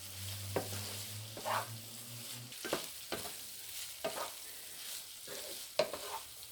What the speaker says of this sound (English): And then we're going to get that stirred around in there and just let it cook for a couple of minutes.